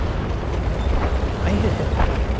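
A tank cannon fires in World of Tanks, giving a muffled boom amid rumbling in-game engine noise, with a player talking over it.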